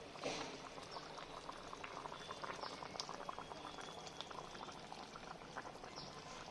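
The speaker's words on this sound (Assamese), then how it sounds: "এনেকৈ প্ৰায় 2 মিনিটৰ কাৰণে মই এইখিনি উতলি অলপমান ডাঠ হ'বৰ কাৰণে দিম।" Chicken drumstick gravy with green chillies bubbling hard over a high flame, a close, steady burble of boiling liquid with no voices.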